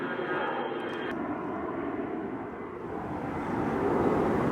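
Passenger jets flying overhead at night above a carp fishing lake produce a steady, low, rumbling drone that swells slightly louder toward the end, with no speech heard.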